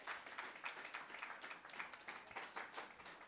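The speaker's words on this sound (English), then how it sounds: "Give yourselves a round of applause" A crowd at a reparations convention in Atlanta claps steadily, a dense, faint and continuous patter of many hands heard from a distance.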